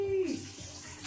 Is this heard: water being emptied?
yes